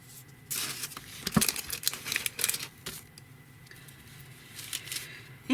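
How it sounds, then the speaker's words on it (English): A small piece of wax paper is handled on a crafting work surface while making a ring-bound journal, giving a series of close, crisp crinkling and rustling bursts with no talk. "I put a little piece of wax paper to protect my surface."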